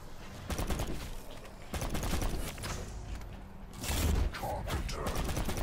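Pistol gunfire in Black Ops 4 Zombies, a run of sharp shots in quick bursts with game effects and a heavier blast near the end, no talk.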